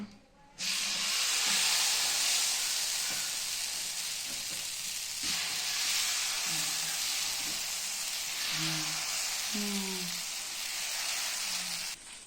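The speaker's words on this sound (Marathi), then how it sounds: "तेल लावलेलं आहे आणि आंबोळी सोडत आहे" Amboli batter poured onto an oiled pan on a gas stove sets off a sudden loud, steady hiss of sizzling that holds for seconds, with faint clinks and a quiet voice underneath.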